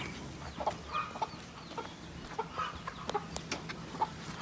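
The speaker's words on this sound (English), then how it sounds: "I got a little bit of footage from the chickens yesterday." Several chickens cluck softly and irregularly nearby, short chirpy calls scattered over a quiet outdoor background.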